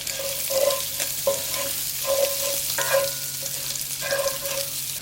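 Sausage sizzles and crackles in a cast iron pan over camp heat for a sausage gravy, a steady close fry with scraping stirs and faint tonal clinks recurring.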